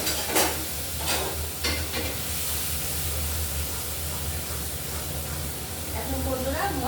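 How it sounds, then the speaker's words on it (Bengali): Spice paste frying in hot oil for a fish curry, a continuous hissing sizzle with a few stirring knocks early on, close by, with a voice speaking over it near the end. "তখন এখন মশলাটাই ভালো করে ভেজে নেব। তেলটা গরম হয়ে গেছে,"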